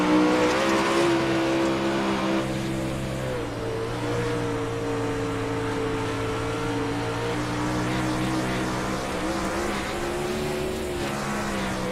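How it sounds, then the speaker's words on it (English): A winged 360 sprint car heard from onboard during a racing lap at Knoxville, its engine a loud, steady, high-revving roar with slight pitch swells through the corners and no voices. "let's take a lap on board right now with Tyler Bish as he rides in the 5th position"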